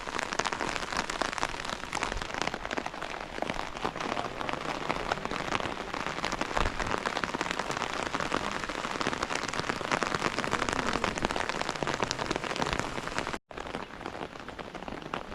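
Rain falls steadily at Kuragala, a monastery site with a stupa, as a dense, even patter on surfaces. It is close and continuous for about fifteen seconds, with a brief dropout near the end.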